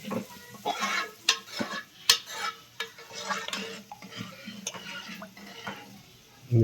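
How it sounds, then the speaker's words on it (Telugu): A spoon scrapes and clanks around a pot of cooking dal (lentils), irregular stirring knocks and scrapes continuing steadily with a soft simmering sizzle beneath and faint background voices. "కలుపు పప్పు కలుపు"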